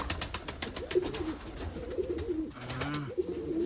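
Large pigeons coo near the microphone while pecking at feed, each rolling call repeating about once a second over soft clicking and scratching, no speech.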